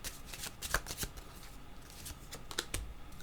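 Tarot cards being shuffled by hand during a card reading: a steady papery riffle with several sharper flicks and slaps, close and clear, with no talking over it.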